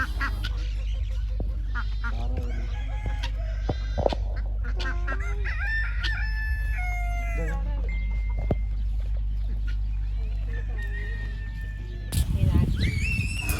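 Chickens cluck and a rooster crows in short tonal calls at a small zoo in Qatar, heard over a steady low hum, with someone talking nearby and a louder rumble near the end.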